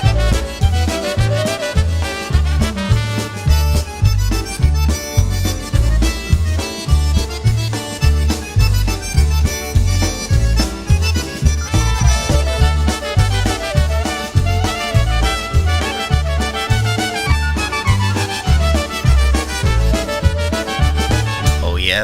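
A polka recording plays throughout, a steady bouncing oom-pah beat with bright accordion-like melody, full and loud without pauses.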